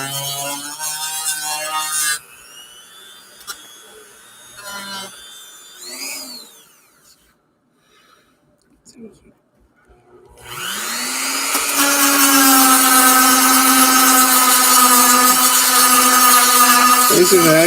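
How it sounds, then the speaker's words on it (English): A sanding wheel grinding a Kastmaster fishing lure down to bare metal, a loud steady whine that rises as the wheel spins up and then holds under the grinding, after quieter handling noises and a short lull. "This is where the sanding wheel comes into play."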